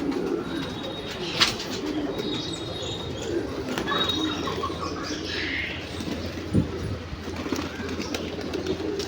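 Fantail pigeons in a loft coo softly, with a few bursts of wing flapping and faint chirps over a steady background murmur.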